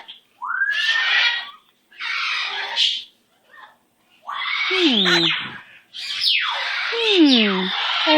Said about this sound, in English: I have a bird on my shoulder.